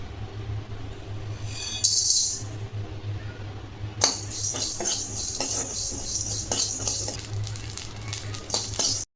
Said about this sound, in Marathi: तर हे सगळं आता भाजून घ्यायचं आहे